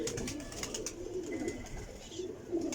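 Pigeons coo in a low, soft, steady murmur close by, with a busy background of rustling and faint chirps; the birds are fancy Chinese-type flying pigeons.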